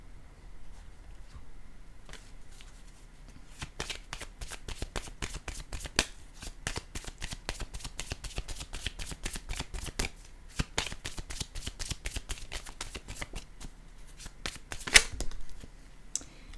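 A deck of playing cards shuffled repeatedly in a quiet room, a dense run of crisp riffling flicks and snaps starting after a soft lead-in and continuing steadily, with a sharper burst near the end.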